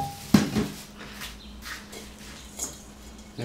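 Dry, crumbly cornbread is turned out of an oiled pan into a bowl with a sharp metallic clank of pan on bowl. Softer scraping and light knocks follow, with a small bump at the end.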